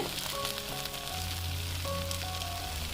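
Bread cheese omelette frying in a pan, a soft continuous sizzle with faint crackle, heard alone and fairly quiet.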